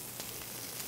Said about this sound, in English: You hear that sizzle, which is great.